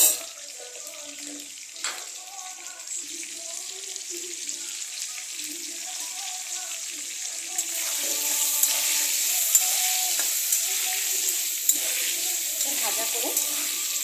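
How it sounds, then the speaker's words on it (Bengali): Potatoes fry with salt and turmeric in a pan, a steady bright sizzle with occasional stirring scrapes that grows louder partway through, with no talking. "এটার মধ্যে একটু লবণ আর হলুদ দিয়ে এটাকে একটু ভাজা করে নেব।"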